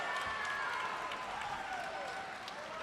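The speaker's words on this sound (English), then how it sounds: "and the crowd comes alive" Crowd at a Hardrock MMA event cheering and applauding after JC Cantrell wins a fight, a steady roar of clapping and shouts from the arena filling the space, fairly distant and even throughout.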